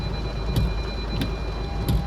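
Heavy rain pouring steadily, a dense close hiss with a few brief louder bursts spaced about two-thirds of a second apart.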